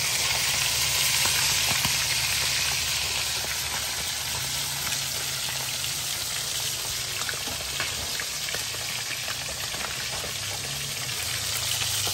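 Food sizzles and crackles steadily in hot oil, a dense constant frying hiss close by with scattered pops and no voices.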